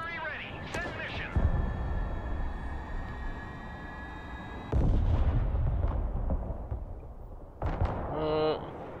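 Mobile artillery in the video game Broken Arrow fires in loud, booming bursts with long rumbling tails, separated by quieter stretches and ending in a sharp mechanical rattle.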